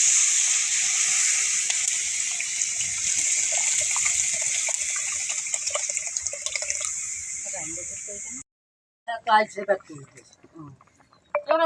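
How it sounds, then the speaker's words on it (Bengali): Water pours into a pan of cooked spices with a loud, steady gushing splash that continues for several seconds, then stops abruptly, followed by a few softer bubbling and clinking sounds. "মশলা কষানো শেষ জল দিয়ে দিই"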